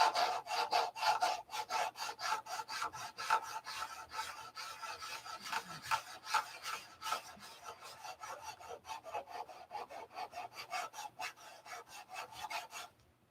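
Sandpaper rubbed by hand in circular motions without a sanding block gives a steady run of close, rapid raspy strokes that continues throughout.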